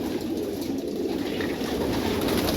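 Pigeons on a pigeon farm coo steadily and continuously, with a close, layered murmur of many birds and no speech.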